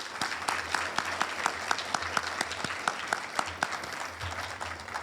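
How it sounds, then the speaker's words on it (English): A round of applause from a symposium audience honouring men of color in the health professions, with individual claps standing out sharply near the mic over the steady crowd clatter. "Let's give them a round of applause."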